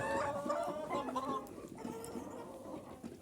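Chickens and roosters in a coop cluck and murmur close by in a short burst of busy fowl calls, which fade slightly toward the end.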